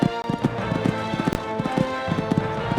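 Hoofbeats from a horse cantering along a cross-country eventing course fall in a regular rolling rhythm over a steady tonal background.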